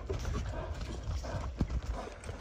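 Hooves of a nimble Kyrgyz horse clip-clopping nearby in a quick irregular rhythm of several distinct thuds, with faint talking in the background.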